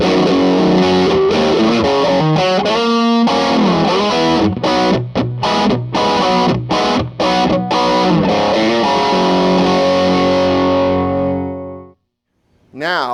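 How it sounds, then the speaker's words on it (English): Heavily distorted electric guitar through a 65 Amps amplifier with EL-34 tubes, played loud, with chugging rhythmic stops and sustained chords that ring out and fade into silence near the end. "I can go over to the more British side of the amp and get, as expected, big distortion out of EL-34"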